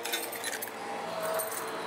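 Keys jangle close by in a continuous bright metallic rattle that lasts about two seconds, with no one talking.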